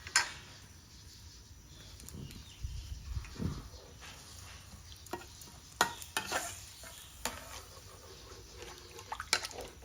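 Red curry paste stirred into water in a pan, with quiet wet scraping and swishing, soft bubbling, and scattered light clicks of the spoon against the pan.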